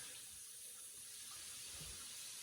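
Water running from a kitchen sink tap, a faint, steady hiss of flowing water that continues evenly without any voices.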